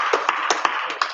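A small group claps hands together in a martial arts class, about eight sharp, fairly even claps over a second with a faint room noise behind.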